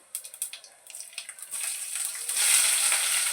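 Onions frying toward golden brown for home-style biryani, starting with several quick stirring scrapes and crackles, then swelling into a louder, steady hiss of sizzling oil.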